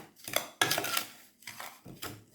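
Homemade cleaning product ingredients are mixed in a bowl, producing scraping, clinking strokes against the bowl in several irregular bursts, close and moderately loud with no talking.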